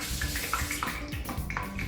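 Tap water runs steadily in a kitchen while fingertips are wetted during biscuit donut making, a continuous close splashing hiss with faint tonal trickles.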